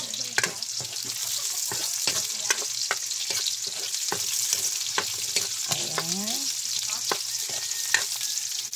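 Onions sauté in a hot pan with garlic, a continuous bright sizzle broken by irregular scrapes and clacks from a stirring utensil, close and steady throughout.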